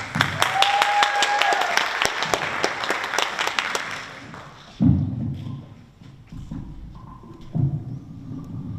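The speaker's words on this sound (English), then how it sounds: "big round of applause." Audience applause at a campus Women's History Month showcase: dense, steady clapping fills the first half, then fades as a voice begins talking over scattered low thumps.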